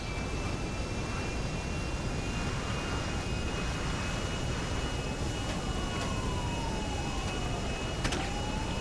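A fixed-wing airplane taking off in the video game GTA: a steady engine drone with a rising whine, continuous and fairly faint throughout, with no talking.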